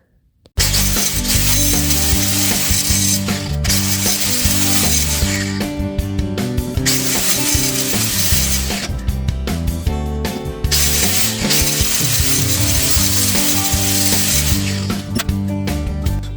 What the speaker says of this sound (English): I'm going to just grind it, get it nice and smooth